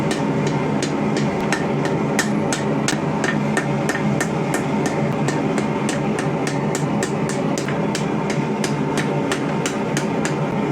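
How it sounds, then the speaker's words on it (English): A hammer forges the teeth of a WWII German rasp down on a blade being made into a short sword, giving loud, close, sharp metallic strikes in a fast, steady rhythm, about three per second, without a break. "we're just going to forge all these little teeth back down and in"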